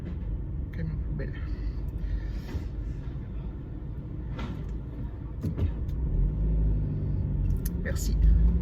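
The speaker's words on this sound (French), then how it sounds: "Camion poubelle." A garbage truck rumbles low and steady in a narrow street, its engine drone swelling toward the end, with occasional voices and traffic noises over it.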